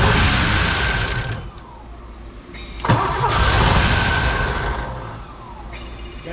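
An old Porsche engine cranking over, loud and close, with a starter whir that stops, then a second attempt with a sharp catch and a rough burst before it fades back to cranking.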